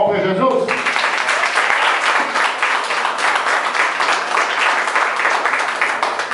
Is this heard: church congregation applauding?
yes